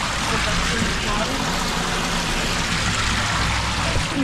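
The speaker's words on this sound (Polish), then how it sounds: "I tutaj jest źródło, skąd wypływa rzeka Wartka." Spring water flowing out at the source of the Wartka river, a dense continuous rushing and trickling wash, close and steady throughout with no talk.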